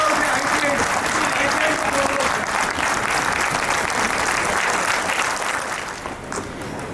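An audience applauds steadily at an ITI Jamnagar skill honour award ceremony, dense crowd clapping that carries on at even strength before easing slightly near the end, with a voice speaking over it.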